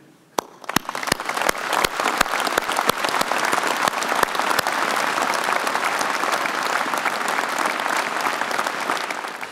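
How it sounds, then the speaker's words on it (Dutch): An audience at a military medal ceremony breaks into applause, starting with a few sharp, separate claps that quickly swell into sustained, dense clapping from a large crowd in a hall, steady and moderately loud throughout. "Ik wil u vragen om een heel groot applaus voor onze militairen"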